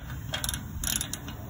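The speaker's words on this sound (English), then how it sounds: "you guys can go ahead and use a smaller ratchet" A small ratchet clicks in short bursts while tightening a downstream bank 2 oxygen sensor on a car's exhaust, with quick, close mechanical ratcheting and no talk.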